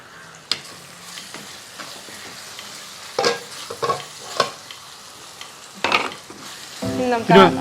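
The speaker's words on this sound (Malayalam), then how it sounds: "ഓക്കെ, എന്തായാലും ഉള്ളിയൊക്കെ ഒന്ന് വാടി വരട്ടെ." Onions softening in a pan for a tender coconut chicken dish crackle and sizzle close by, broken by repeated scraping stirs and clanks, with a louder burst of frying at the end.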